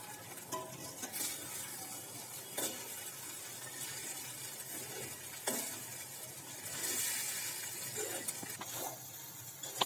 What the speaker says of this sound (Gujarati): પૌવાને જે આપણે પલાળી રાખેલા છે તે પણ અંદર ઉમેરીને બરાબર મિક્સ